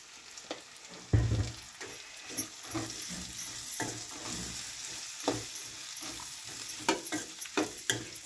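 Dried fish curry frying in a pan as it is stirred, a soft sizzle under repeated scraping, clinking spoon strokes, with one louder clunk near the start.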